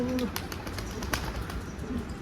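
A pigeon coos softly, a low rolling call at the start and again near the end, over steady background noise with no talking.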